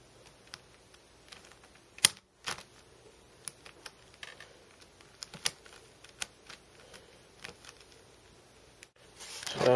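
Dayan Megaminx puzzle being turned, with rapid clicky plastic clacks and scrapes in irregular bursts through the whole stretch, close and fairly faint.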